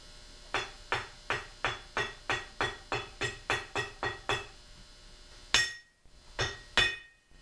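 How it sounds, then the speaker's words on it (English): A hammer taps the wedge fittings onto the barrel of a Traditions Crockett .32 squirrel rifle kit: a brisk run of about a dozen evenly spaced metallic knocks, a brief pause, then a few harder strikes, close and clear. "what I am doing here is pounding the top of the wedge fittings a little bit on the barrel"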